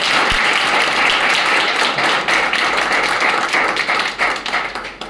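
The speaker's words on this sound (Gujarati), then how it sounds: "રોશનભાઈ માટે જોરદાર તાળીઓ પડે." Loud, dense audience applause fills a hotel hall in Ahmedabad during a speech event, steady clapping throughout with a few sharper taps, thinning slightly toward the end.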